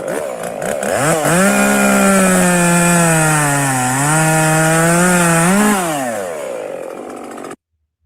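A loud chainsaw revs up and drones steadily, its pitch dipping and rising once before winding down and cutting off abruptly.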